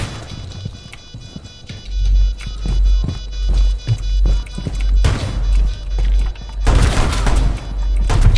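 Gunfire in a shooter video game on the Consulate map: loud, dense bursts of shots and rapid impacts throughout, swelling into heavier volleys toward the end.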